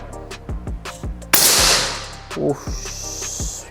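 A single airsoft gun shot fired in single-shot mode cracks out loud and close, leaving a ringing tail, amid a series of lighter rhythmic clicks and a voice.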